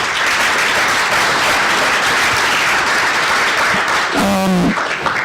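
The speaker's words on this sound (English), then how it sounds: "We give a round of applause for all of you." Loud, sustained applause from a conference audience thanking event sponsors, a thick wash of clapping that holds steady, with a brief voice breaking through near the end.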